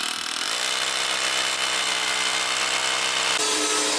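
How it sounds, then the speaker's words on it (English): A power drill bores holes into concrete, running as one steady, loud, continuous whir that starts up after a brief moment and holds its pitch, then shifts slightly near the end. "So we get the holes drilled"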